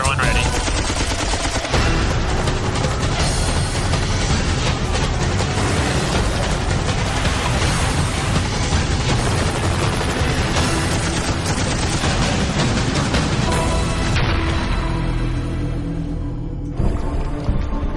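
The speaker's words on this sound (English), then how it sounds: "Warning shots authorized. Fire one ready." Navy warning shots fired at Somali pirates in the Gulf of Aden, a dense, loud burst of rapid machine-gun fire that rattles on continuously before tapering off near the end.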